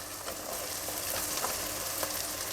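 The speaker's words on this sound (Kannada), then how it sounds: "ಈಗ ತರಕಾರಿಗಳನ್ನು ಸೇರಿಸ್ತಾ ಇದ್ದೀನಿ ಹುರುಳಿಕಾಯಿ ಕ್ಯಾರೆಟ್" Chopped beans and carrot for a vegetable biryani hit hot oil in a pan, giving a continuous, even sizzle with faint crackles and stirring, close up and without talk.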